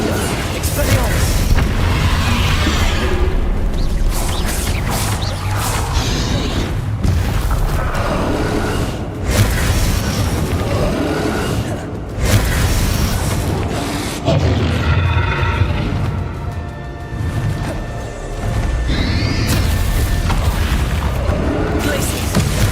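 Repeated magical spell blasts and booming impacts from combat in the Hogwarts Legacy video game, loud and nearly continuous with bursts of crackling and rumble layered over a steady low roar.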